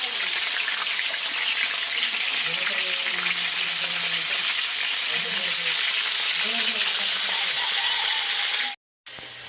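Steady sizzling and crackling of tilapia frying in hot oil in a pan, continuous and close, with faint clinks in the background.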